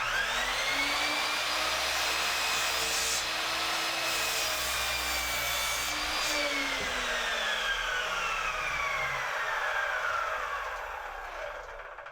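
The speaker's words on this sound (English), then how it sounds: "I don't know if the vacuum helps at all with the miter saw" A miter saw slices through wood for a firewood shed roof while a shop vacuum drones steadily beneath it, the blade whine rising and falling across one long cut before easing off near the end.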